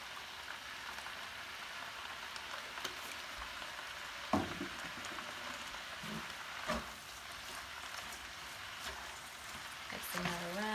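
Cabbage with a teaspoon of paprika frying in a pan, a steady crackling sizzle throughout with occasional scraping clinks of a utensil stirring it, fairly close.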